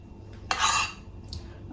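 A spoon scrapes and clinks against a bowl while melted chocolate is spooned over mini Biscoff cheesecakes, one bright close scraping clatter followed by a fainter tap, over a quiet kitchen room tone.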